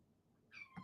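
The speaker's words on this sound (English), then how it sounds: "kitties are meowing" Cats meowing, a short pair of fairly faint meows heard close by, one drawn out and a second shorter call just after, with no one talking.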